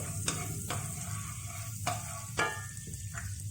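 Garlic and ginger frying in a pan for Thai-style fried rice, a steady close sizzle broken by several sharp scraping stirs.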